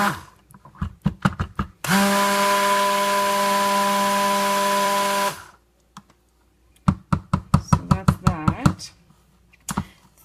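Green clay being mixed for soap making gives a steady, loud whirring drone of about three and a half seconds. A voice talks before and after it.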